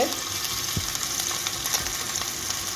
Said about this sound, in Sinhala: ටිකක් වෙලා ඒක බැදෙන්න හදනවා.